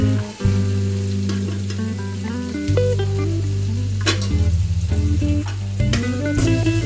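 Tomato and onion frying briskly in a pan for a chicken curry, a loud steady sizzle with occasional stirring, heard over continuous background music with no talk.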